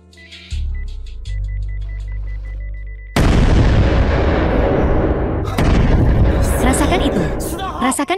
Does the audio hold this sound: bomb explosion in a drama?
yes